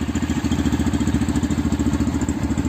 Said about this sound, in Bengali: এই বাইক কোল্ড স্টার্ট হচ্ছে।